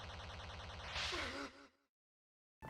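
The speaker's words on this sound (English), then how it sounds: "this little gasp sounds like it was lifted straight out of The Legend of Zelda" A short, high little gasp from the Deltarune video game rises out of a bright electronic game tone, then fades to silence before the tone briefly returns.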